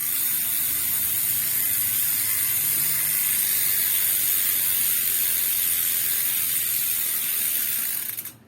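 A mountain bike hub's freewheel ratchet buzzes in a loud, continuous, dense clicking as the wheel spins freely, holding steady for about eight seconds before cutting off abruptly.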